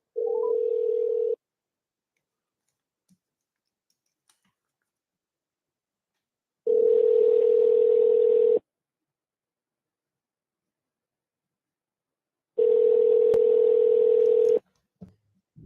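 A telephone call rings while waiting for an answer: three long steady electronic tones separated by long silences, the first one brief, clean and fairly loud.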